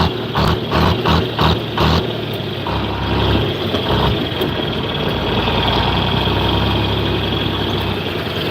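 A Hesston tractor engine idles close by with a steady low rumble, opening with a few rhythmic pulses before settling into a continuous drone with no one talking.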